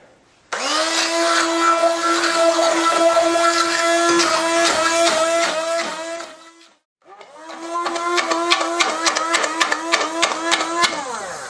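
An electric whisk whirs steadily through mashed fruit, turning it into a soft puree, with a loud continuous motor hum that cuts out briefly and then starts again.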